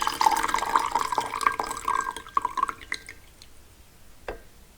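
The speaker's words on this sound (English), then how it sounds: "we're going to go ahead and pour our infusion out" Tea infusion pours out of a teapot in a trickling, splashing stream that gradually thins to scattered drips, followed by a final small splash.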